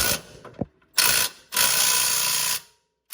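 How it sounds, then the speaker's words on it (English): Ratchet tightening the camber arm bolts on the rear suspension of a Lexus SC400/300, heard as rapid clicking bursts close by, one short and two longer runs separated by pauses. "Now let's go ahead and tighten these bolts up back there, the camera bolts that we just put in."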